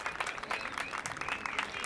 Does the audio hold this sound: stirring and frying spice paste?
no